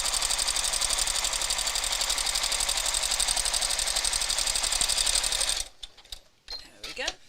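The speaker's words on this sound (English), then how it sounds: "I'm just going to top stitch along here" A sewing machine top stitches along a bag seam with a longer stitch length, running as a steady, fast, loud mechanical whir for several seconds, then stopping abruptly, followed by a few soft handling clicks.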